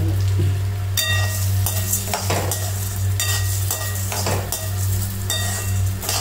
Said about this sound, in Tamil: நல்லா செவக்க வறுத்துக்கணும்